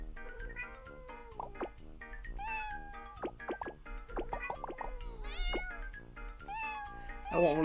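Repeated playful cat meows in the mobile puzzle game Block Cat Jam, a string of short calls over looping background music, ending in a louder burst of sound.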